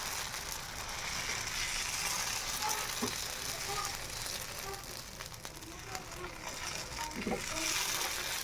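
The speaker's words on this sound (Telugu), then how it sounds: "ఇప్పుడు దోశ వేసుకుందాము" Dosa batter sizzling on a hot pan rubbed with onion, a steady soft hiss and crackle that runs throughout at low level.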